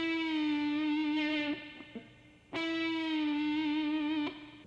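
Distorted electric guitar plays a lead note that starts bent and is released down, finishing with vibrato, played twice with a short gap between, close and clear with effects on the tone.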